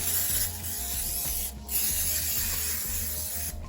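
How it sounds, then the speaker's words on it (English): A loud, close hiss of non-stick cooking spray greasing a casserole dish in long continuous bursts, with a brief pause partway through and another near the end. "using my non-stick cooking spray"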